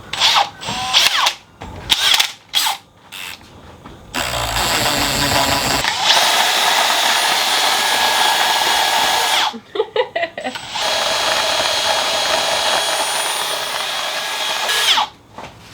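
A power drill spins a pepper grinder in two long steady whirring runs, broken by short clicks and handling noises, with brief talk between them.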